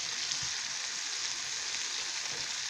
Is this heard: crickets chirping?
no